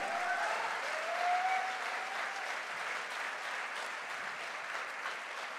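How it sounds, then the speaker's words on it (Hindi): Loud, sustained applause from a large audience at a promotion celebration, a thick continuous wash of clapping that swells early and then holds steady, with no voices. "अरे घनघोर ताली बनती है"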